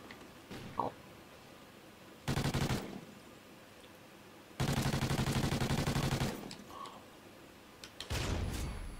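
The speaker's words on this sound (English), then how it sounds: "this gun is way too loud" Sustained automatic gunfire in the video game Call of Duty Ghosts comes in three long, loud bursts of rapid shots, with short quiet gaps and a few faint clicks between them.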